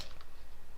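A computer keyboard's F2 key is pressed repeatedly in a rapid, even run of soft clicks, close and fairly quiet, with no speech over them.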